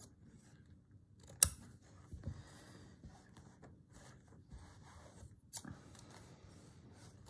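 Scissors cut through fabric in a quiet room, a few crisp close snips with a soft rustle of cloth between them and no talk.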